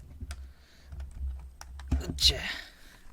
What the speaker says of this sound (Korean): 어 키보드는 G 프로 X예요.